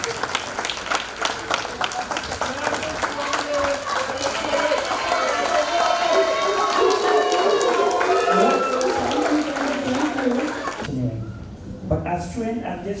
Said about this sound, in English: I would like the audience to give them a round of applause.